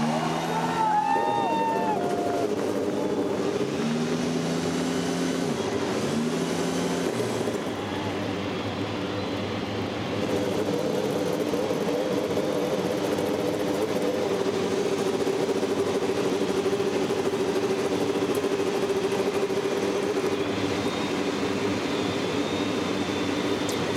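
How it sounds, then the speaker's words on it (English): IndyCar race car engines at the 2008 Detroit Indy Grand Prix fire up with a few rising revs at first, then settle into a dense, steady idling drone from many cars. The sound is heard at a moderate distance and holds for the whole stretch. "The engines have come to life"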